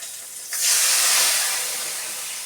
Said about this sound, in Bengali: এবার এই তেলের মধ্যে আমি কালো জিরে ফোড়ন দিয়ে দেবো, আর দেবো দুটো কাঁচা লঙ্কা